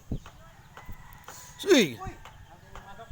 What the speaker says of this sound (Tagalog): Uy, naay manok.